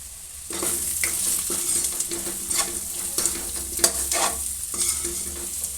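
Chili powder stirred into a frying potato and tomato curry, with a steady close sizzle and rhythmic scraping strokes of a spoon against the pan, no talk.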